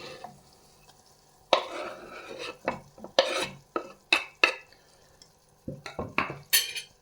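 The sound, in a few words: tomatoes added to a sizzling soffritto in a pan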